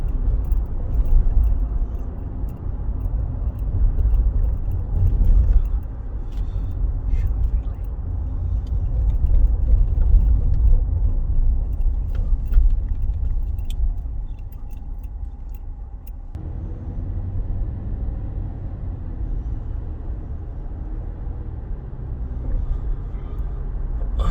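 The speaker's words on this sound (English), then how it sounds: "Right now I'm driving on Ala Moana Boulevard." A car drives along Ala Moana Boulevard, heard from inside as a steady low road rumble and engine hum. The hum shifts slightly partway through, with faint rattles above it and no talking.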